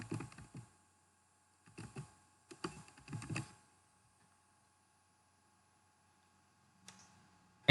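A repository name typed on a computer keyboard, several short bursts of quiet, close key clicks separated by pauses, followed by near silence and a faint final click.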